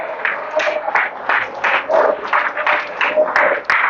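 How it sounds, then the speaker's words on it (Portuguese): A church congregation applauds in praise during a Portuguese-language sermon, with uneven bursts of clapping and a voice carrying over the crowd throughout. "Vamos aplaudir ao Senhor."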